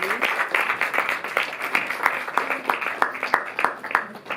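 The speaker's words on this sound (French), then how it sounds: "Je vous demande de les applaudir très fort une dernière fois." A cinema audience in Paris claps loudly at a meeting with Isabelle Huppert, with dense, sustained applause and some sharper individual claps standing out near the listener.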